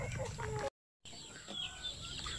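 Free-range chickens cluck in their ranging area, soft and fairly close, with a short dropout midway and a voice speaking faintly under the birds.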